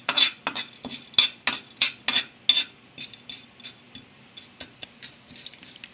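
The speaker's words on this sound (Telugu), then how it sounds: "ఇందులో మనం పచ్చెనగపప్పు అలాగే మినపప్పును కూడా మనం వేసుకుందాం వేసుకొని మనం కలుపుకుంటూ వేయించుకుందాం" Chana dal and urad dal stirred in hot oil for potato upma curry give a series of sharp metallic scrapes and clinks of a spoon against the pan, rhythmic at first and then tapering into softer taps, with a faint sizzle beneath.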